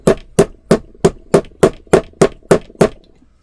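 Ten sharp, evenly spaced metallic taps as a bit is used to knock back the pivot of a Microtech knife, close and loud, steady rhythm about three per second, no talking.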